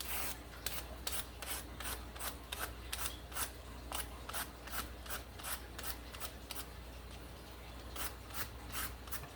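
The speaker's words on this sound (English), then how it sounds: "Just continue the process of scraping all the carrots." Carrots are scraped with a scraper to take off the thin outer skin for pumpkin and carrot punch, a close, rapid series of rhythmic rasping strokes repeating steadily throughout.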